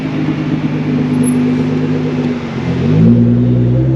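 A car running E85 fuel on a cold day idles high, its engine holding a steady drone before the revs shift and settle near the end, loud and close with no talk.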